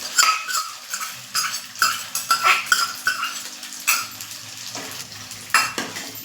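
Pasta is mixed with a prepared paste and an onion mixture in a pan, heard as repeated close spoon clatters and scrapes against the metal in uneven bursts over a faint sizzle.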